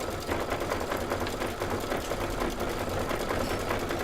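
Embroidery sewing machine stitching out a confetti design, a steady, fast mechanical whirring with rapid needle clatter running continuously at close range, no talking.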